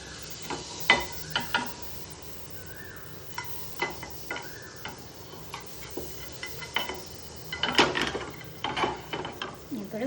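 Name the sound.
butter melting and sizzling in a frying pan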